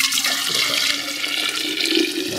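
Hot water pouring into a thermos for coffee, a continuous close gurgling, rushing stream that holds steady with small splashes and shifts in pitch as the flask fills.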